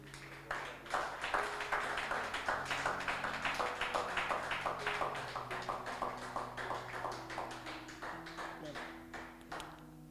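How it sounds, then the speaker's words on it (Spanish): A church congregation claps together in a steady rhythm while music and voices carry on underneath. "Denle un aplauso al Señor"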